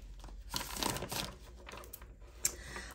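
Tarot cards are shuffled close up, a soft run of papery riffles and crinkly flicks with a sharper snap near the end.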